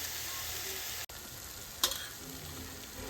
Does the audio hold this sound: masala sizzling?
yes